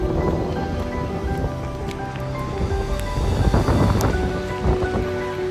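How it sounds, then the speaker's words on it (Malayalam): Steady heavy winter rain pours down continuously in Wales, with low rumbling swells beneath the downpour and no voices. "ഫുൾ മഴ നനഞ്ഞ്"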